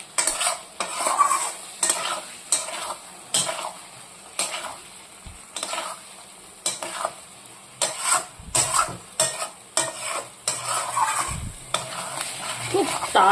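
A utensil scrapes and stirs potato curry gravy for Bengali aloo dum in a pan, a series of rhythmic strokes over a soft sizzle, close and clear with occasional metallic knocks.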